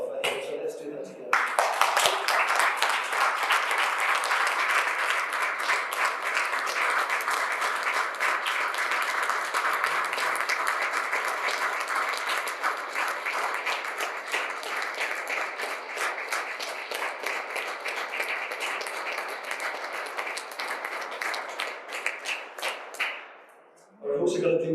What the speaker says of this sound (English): I feel we should stand and just applaud Stuart for who he is and who he was